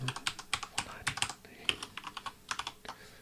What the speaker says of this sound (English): so let me type it in